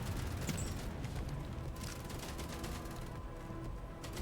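Gatling gun fire in the video game Infinity Siege, a dense continuous rattle of rapid shots with booming low rumble, loud and steady throughout with no pause.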